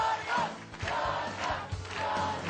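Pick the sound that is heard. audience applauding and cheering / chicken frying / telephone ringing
audience applauding and cheering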